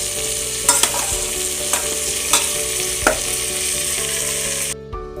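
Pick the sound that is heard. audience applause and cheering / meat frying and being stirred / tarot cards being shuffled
meat frying and being stirred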